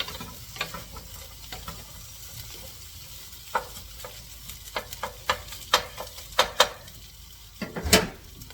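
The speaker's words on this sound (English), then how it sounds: "Just soften the vegetable, and I can smell that aromatic from that oil." Vegetables soften in hot oil for stir-fry noodles, a low sizzle under repeated sharp spatula clacks against the pan that grow denser and louder toward the end.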